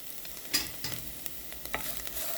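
Eggplant moussaka with dried coriander is stirred and sautéed in a pan, giving a soft, steady sizzle broken by several sharp scrapes and clacks of the spoon against the pan, quiet and close, with no voices.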